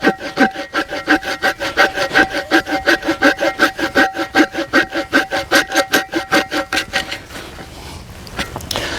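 A Glock entrenching tool's folding saw cuts through a fairly large tree root in quick, loud, rhythmic back-and-forth strokes, about twenty-five in a row, then the sawing stops and leaves only soft rustling.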